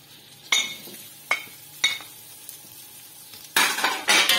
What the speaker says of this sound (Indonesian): Bekasnya kita goreng ikan bilis.